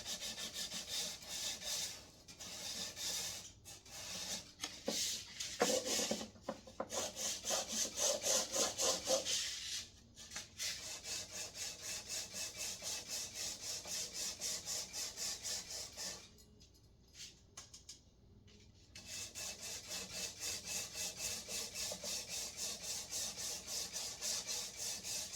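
A file rasps rhythmically across the nut of a Gretsch G5420T electric guitar during a setup, with steady back-and-forth strokes and a few brief pauses.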